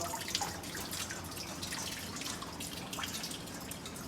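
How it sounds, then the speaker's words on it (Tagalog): Kimchi rinsed under a running kitchen tap, a steady close stream of water splashing and dripping into the sink, continuous and moderately loud with no voices. "pwedeng running water na lang"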